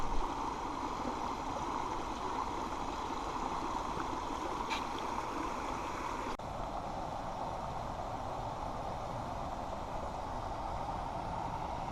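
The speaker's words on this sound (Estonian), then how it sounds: "oja vuliseb" A babbling stream runs steadily through a canyon near Moab, Utah, a constant broadband wash of flowing water heard up close and unbroken, with no voices over it.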